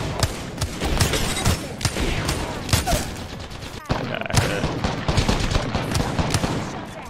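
Rapid automatic gunfire from the Apex Legends video game, a dense stream of repeated shots with short gaps, loud and continuous across the whole stretch, with no speech over it.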